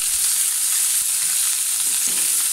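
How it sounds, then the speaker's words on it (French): Minced beef fries in olive oil with a continuous bright sizzle, broken by soft knocks and stirring in the pan. "vous mettez environ 4 cuillères à soupe d'huile d'olive et ici on va venir déposer le bœuf haché"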